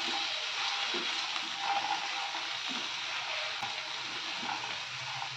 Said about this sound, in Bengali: মশলাটা একটু হালকা ভাজা হবে।